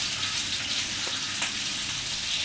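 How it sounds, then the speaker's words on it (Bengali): Fried fish and chopped local tomatoes sizzle in a pan, a dense, constant crackling hiss with a few faint splashy pops, close and unbroken. "ভেজে রাখা মাছগুলো। কেটে রাখা টমেটোগুলো দিয়ে দিচ্ছি।"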